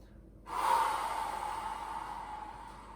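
A slow, drawn-out inhalation during a guided breathing exercise, starting after half a second of quiet and continuing steadily, close and soft, with no talk over it.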